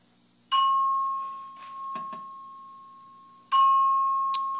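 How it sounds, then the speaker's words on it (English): A fire alarm system chime sounds during a test: two clear electronic ding tones about three seconds apart, each ringing out and slowly decaying in an otherwise quiet room. "I forgot the chime's going to go off as well"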